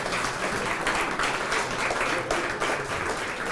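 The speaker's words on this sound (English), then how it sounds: "give a round of applause for the staff here at Regina Brewing" A room applauding the staff at Regina Brewing during a book launch, dense and sustained clapping from a sizeable crowd that stays loud and even from start to finish.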